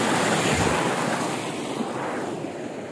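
Water rushes through a village stream channel in a continuous broadband roar, close and fairly loud, with no voices over it.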